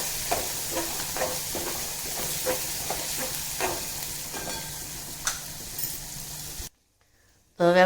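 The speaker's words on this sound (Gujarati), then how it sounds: "હવે આપણે તેને મિક્સ કરશું." Spices including red chilli and turmeric being stirred into dal in a cooking pan, giving a steady sizzling, scraping rattle with repeated spoon knocks, close and fairly loud, ending in a short silence.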